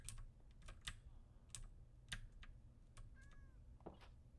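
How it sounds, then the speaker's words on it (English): Cat meowing in a video game, a faint brief meow amid keyboard typing and clicking over a steady low background hum. "There's a kitty up here."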